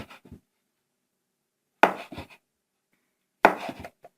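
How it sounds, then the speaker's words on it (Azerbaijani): Knife chopping through dark and light cookie dough on a board for day-and-night cookies, in three short bursts of dull cuts separated by silent pauses. "İndi bunları doğrayacağıq."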